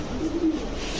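A pigeon from a pair of cream-eyed birds gives a brief, close, low coo that swells and fades within a second over a light background hiss, with no one talking.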